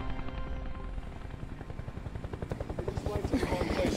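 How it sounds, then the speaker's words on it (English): A helicopter flying overhead, its rotor beating in a steady rapid pulse that swells louder toward the end, close and dominant, with people talking faintly underneath. "get rid of that chopper? I can barely hear myself think"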